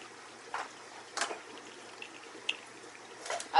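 Water siphons through a hose out of a turtle tank, giving faint, scattered trickles and small splashes over a low background hiss.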